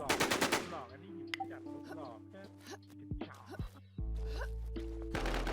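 Rapid automatic gunfire in the online game WarmZ strikes a metal grate, with bursts of shots and metallic pings over a steady game hum and occasional speech.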